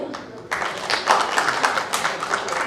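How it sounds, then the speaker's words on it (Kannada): A crowd at a badminton cup launch event bursts into applause after a short pause, the clapping rising suddenly and then continuing at an even, lively level. "ದಯವಿಟ್ಟು ಡಬಲ್ ಚಪ್ಪಾಳೆ."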